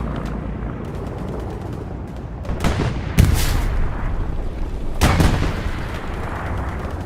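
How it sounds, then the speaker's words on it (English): British bombing run in a multiplayer video game, a steady low rumble of battle broken by several heavy booming explosions, loud and close, no voices. "And here comes the British bombing run"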